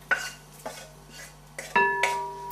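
Softened onions, cooked earlier with a little cayenne pepper, clatter into a pan for a vegan roast dinner stock; a few distinct clinks and scrapes of pan and utensil ring out, with a brief metallic ring near the end.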